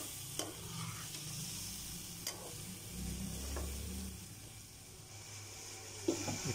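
Mutton karahi in yogurt sizzles softly in the pan while being stirred, with a few sharp scrapes of the spoon against the metal over a steady low frying hiss.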